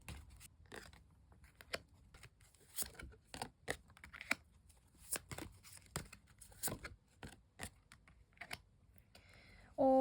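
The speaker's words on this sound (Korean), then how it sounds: "카드를 뽑아볼게요" Tarot cards shuffled and drawn on a table, a quick run of soft papery slaps and flicks with short pauses between, close and fairly quiet.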